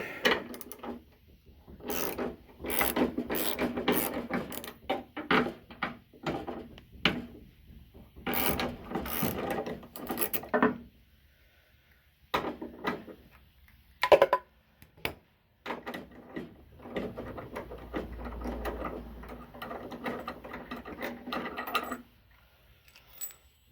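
Ratchet wrench clicking in repeated bursts while backing a bolt out of the rear spring mount on a drag-and-drive Ford Pinto, with short pauses and a few metallic clinks between strokes, close and clear.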